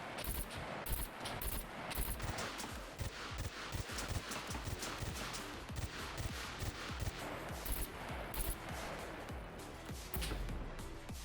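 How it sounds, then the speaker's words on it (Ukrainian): Rapid bursts of gunfire at a robot in the video game SCUM crackle in a steady stream, dense and continuous, with brief pauses between volleys and no talking. "Стріляємо в нього."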